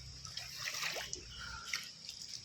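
Strong floodwater rushing during Typhoon Basyang in Iligan City, a steady watery wash with splashes and drips, fairly faint and continuous, alone without talk.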